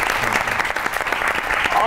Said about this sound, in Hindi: ताली होनी चाहिए इस बात पे।